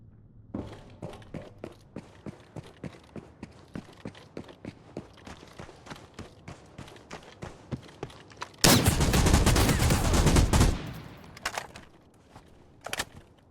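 FAL rifle shots crack in a steady rhythm of single rounds in the game Arena Breakout: Infinite, then a dense, loud roar of sustained fire breaks in, followed by a few scattered shots.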